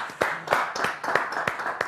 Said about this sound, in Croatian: Može aplauz za Jocu.